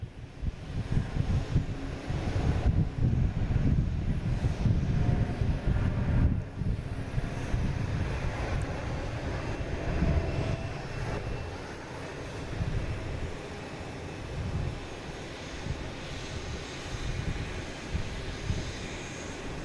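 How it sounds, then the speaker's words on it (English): An Etihad airliner takes off bound for Abu Dhabi, its jet engines giving a loud, steady low roar that holds for the first stretch and then eases into a more distant rumble, with some wind buffeting the microphone. "Etihad taking off to Abu Dhabi."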